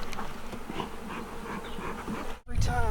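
Honey bees buzz in a dense, close swarm during a hive removal, a continuous hum, briefly broken by a handling knock near the end.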